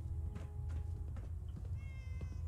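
A cat meows in Fallout 4, a short in-game feline call heard amid low ambient game sound, with no talk.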